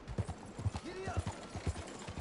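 Horse hooves galloping in Red Dead Redemption 2, a quick rhythmic series of close, heavy hoofbeats with a brief snort mixed in.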